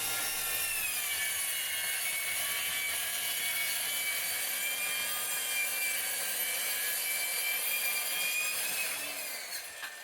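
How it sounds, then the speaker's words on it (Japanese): A circular saw cutting steadily through a tatami mat with a foam insulation core, a loud, continuous, high-pitched whine of blade on material lasting throughout, close by, and tapering slightly at the very end as the cut finishes. "まあ、とりあえず丸のこで切っていきます。"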